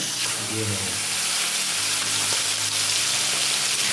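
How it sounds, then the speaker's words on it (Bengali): Shrimp frying in a little hot oil for a Bengali dish with pumpkin and Malabar spinach: a constant close sizzle and spattering hiss throughout, with a faint voice briefly underneath. "প্রথমে আমি অল্প করে তেল দিয়ে চিংড়িটা ভেজে নেব"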